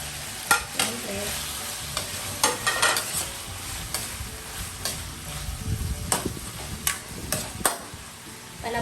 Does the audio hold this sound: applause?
no